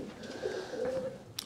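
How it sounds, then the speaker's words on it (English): A pigeon in a Belgian loft gives a soft, close coo with a couple of low rolling notes, alone against faint room noise. "What a beautiful pigeon."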